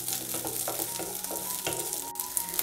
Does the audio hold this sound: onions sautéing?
yes